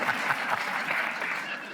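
A live podcast audience in Newcastle gives a steady wash of applause with light cheering, continuous and moderately loud, heard at some distance without talk.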